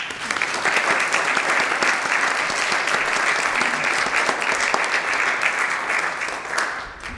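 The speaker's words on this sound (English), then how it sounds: "please give Melissa a big round of applause" An audience at a history talk on spirits and speakeasies applauds speaker Melissa with a loud, dense, sustained burst of clapping that holds steady for about seven seconds and eases slightly at the end.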